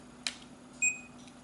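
A faint, thin electronic beep from Sony VAIO laptop speakers, preceded by a soft click, over a low steady hum.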